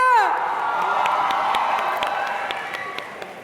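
Audience applause and cheering for six dance team leaders at a street dance competition final, a dense, sustained wash of clapping with whoops, loud and close, fading slightly toward the end.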